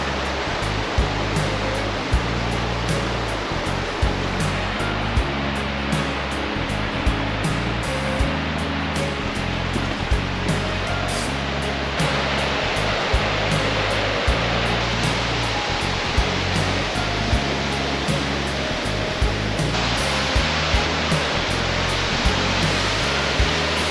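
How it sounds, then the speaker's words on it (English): Tumalo Falls roars in winter near Bend, Oregon, a loud, continuous wash of falling water that fills the whole clip without pause and with no voices. "Made it to the waterfall."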